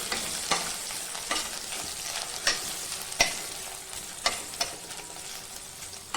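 Potato pieces fry in hot oil with cumin, a continuous close sizzle broken by repeated sharp scrapes and taps of a spoon stirring through the pan.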